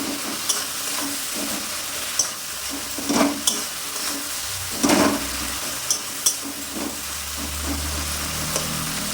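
Ginger garlic paste frying in a pan for chicken and potato curry, a continuous hiss broken by repeated scraping strokes of a spatula stirring it, close by.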